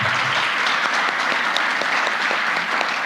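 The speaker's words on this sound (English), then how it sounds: "fessor Stephanie and Professor Simo Parpola, if we could just give them another round of applause." A lecture audience gives a round of applause for the speakers: dense, steady clapping from many hands that fills the room at full volume throughout.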